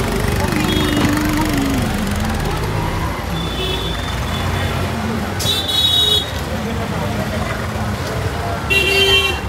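A crowded morning bus stand at Neral churns with idling and revving engines, horn toots and road noise, with louder passing vehicles nearby and chatter mixed into the din.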